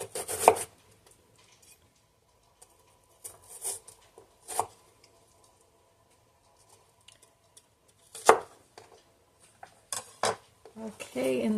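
A knife chops onions on a cutting board in a home kitchen, a handful of sharp, isolated cuts scattered across quiet gaps, with a quicker cluster near the end.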